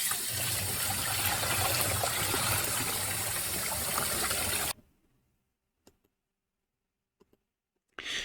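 Running water rinses freshly dyed yarn in a steady, loud, full-band flow for nearly five seconds, then cuts off abruptly, leaving near silence with a few small clicks and a brief final burst of water.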